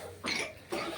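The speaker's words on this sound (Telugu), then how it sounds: "దగ్గు వచ్చిందా" A child coughs twice in a village home, two short harsh bursts separated by a brief pause, close and clear with no talk over them.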